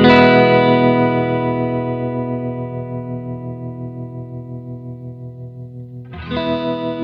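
A sustained electric guitar chord rings out through a Strymon Flint tremolo and reverb pedal, slowly decaying with a wavering shimmer, then a second chord is struck near the end.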